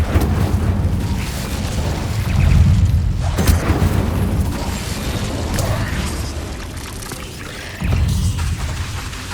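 A blazing fire spell cast in a cave in Hogwarts Legacy, a sustained roaring rumble with heavy low-end booms and crackling bursts that swells and fades over several seconds, loud and dense.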